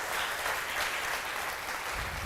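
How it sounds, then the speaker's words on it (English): A forum audience in London breaks into sustained applause, a dense wash of many hands clapping steadily at moderate loudness from start to finish with no voices over it. "So huge round of applause to everybody that's been involved with creating today."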